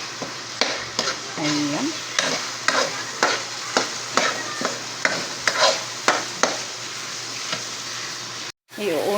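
Carrots frying in a pan for spaghetti sauce, a continuous sizzle broken by regular scraping stirs of a utensil, close and clear, with a brief spoken word.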